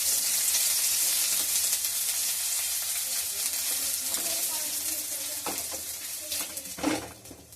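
Dried red chilli, white cumin seeds and a bay leaf sizzle in hot oil in a wok for a winter vegetable dal, a steady close crackle that eases slightly, with a few clinks of a utensil near the end.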